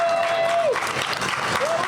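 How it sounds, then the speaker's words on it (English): An audience at an ADA Day 2024 event applauds the Disability Commission staff, with steady, full clapping throughout and a high whistle at the start and again near the end. "Round of applause for the Disability Commission staff"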